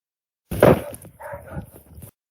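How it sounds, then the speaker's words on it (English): A dog lets out a single bark followed by a brief trailing yelp, a short isolated burst set against silence, its tone muffled as though heard from some distance. "It's just a dog barking in the distance."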